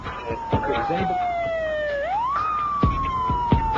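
Police patrol car and ambulance sirens in Chicago, a loud wailing tone that sweeps down and back up, close by, with engine noise and a few sharp thuds beneath it.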